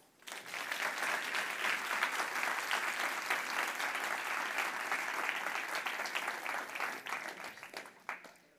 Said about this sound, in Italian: Dedichiamoci quindi un applauso.